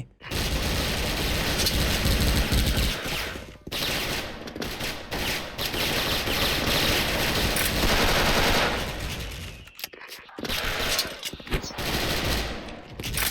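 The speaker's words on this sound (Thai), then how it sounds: "จังหวะนี้ผมยิงทะลุหมดแหละ" Sustained M4A1 rifle fire in the online shooter Special Force roars almost nonstop in dense automatic bursts, loud and close, with a couple of short gaps between volleys.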